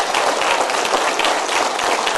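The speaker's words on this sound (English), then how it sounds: "A big round of applause for all these guys once more." A county board of supervisors meeting audience gives a round of applause for honored staff members: a steady, dense wash of many hands clapping throughout.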